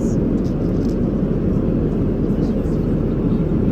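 Airplane engines roar at an airport in Oman on a hot day, a loud, steady broadband rumble that fills the whole stretch without letting up.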